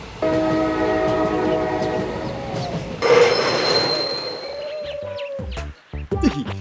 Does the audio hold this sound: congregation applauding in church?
no